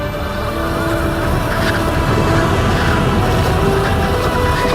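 An E-Box 2 electric pit bike climbs a hill at full power, its motor and drivetrain making a loud, continuous rushing whine with rough wind and terrain noise and no talking.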